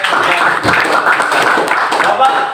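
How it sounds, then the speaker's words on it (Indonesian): A school class clapping for a group of students in a classroom lesson, loud and close, a quick run of hand claps mixed with children's voices calling out over them. "Beri tepuk tangan untuk kelompok"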